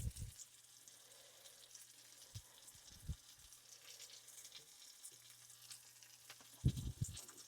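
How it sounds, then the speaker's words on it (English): Beef sears in a pan in batches, giving a soft, steady sizzle and faint crackle throughout, with a low hum and a few brief knocks and clatters of cookware. "I'm going to let them sear on one side."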